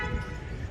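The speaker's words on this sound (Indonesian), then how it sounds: "Untuk bunyi klakson," A Hyundai Palisade Signature (LX2, 2020) sounds its car horn, one brief steady toot heard close and alone, lasting under a second.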